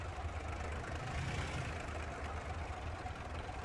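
Steady single aircraft engine drone in the flight sim Rise of Flight hums continuously at a constant pitch, a low mechanical rumble with no voices.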